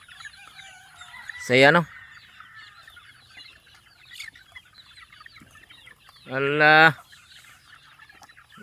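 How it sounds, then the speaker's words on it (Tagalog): Chickens at a sloped hillside farm give two loud, drawn-out calls a few seconds apart, close by over a quiet background, with a few brief spoken words. "Ang manok oh."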